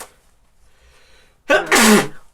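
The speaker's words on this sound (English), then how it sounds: "Pre-ordering a sneeze." A single loud sneeze after a moment of near silence, sharp and close.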